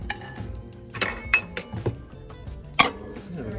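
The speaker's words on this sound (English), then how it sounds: "Give her a little stir" Keto pizza dough mixture stirred in a bowl, heard as a few sharp clinks of a utensil against the dish mixed with soft scraping.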